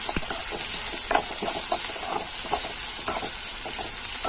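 Raw banana frying with garlic in a pan, a continuous close sizzle under repeated scraping and stirring strokes, with no talk.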